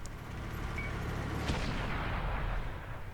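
Tank cannon fire and an ammo rack explosion in World of Tanks, heard as a sharp crack about midway through a heavy, rumbling low boom with sustained noisy roar and no talking.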